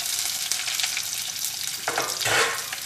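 Onion, ginger and green chili fry in a pan of oil with popped mustard seeds, giving a continuous close, bright sizzle with a brief stirring scrape near the end.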